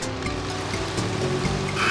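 Cartoon water splashes and gushes steadily as crops in freshly planted patches are watered, a continuous rushing stream under faint background music.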